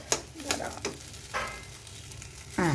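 Bottle gourd peel mash stirred in a pan with coriander leaves, a soft continuous sizzle under repeated close scraping strokes of a spoon.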